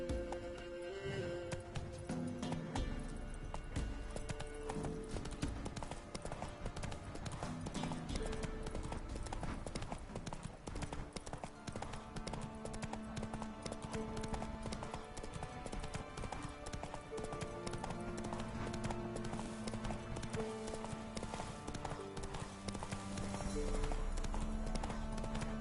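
A horse ridden in the video game Witcher 3 gallops in a steady, continuous clip-clop of hooves, set within a dense, constant layer of game sound that runs the whole way through.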